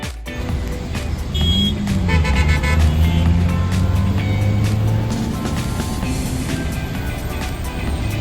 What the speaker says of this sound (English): Nice traffic.